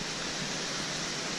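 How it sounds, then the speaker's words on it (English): A waterfall along the Annapurna Base Camp trek gives off a brief, steady rushing wash, soft and somewhat distant, with no other sounds standing out. "It's a waterfall!"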